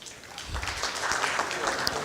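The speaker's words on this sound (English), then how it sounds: "Please give yourselves a round of applause." An audience at the close of an event claps in scattered, irregular bursts, moderately loud and filling the room, with a few faint voices mixed in.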